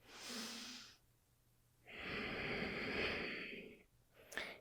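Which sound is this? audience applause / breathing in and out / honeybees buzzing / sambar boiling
breathing in and out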